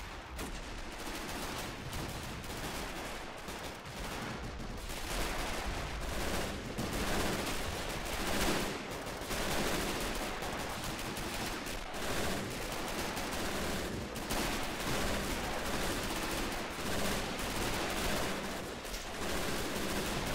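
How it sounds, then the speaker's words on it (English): Dense battle fire from the Men of War Assault Squad 2 video game, with Flak 88 guns in a Battle of the Bulge city defense, keeps up continuous rapid gunshots and machine-gun bursts with heavier booming flak mixed in, fairly faint. "Flak 88's going nuts over there."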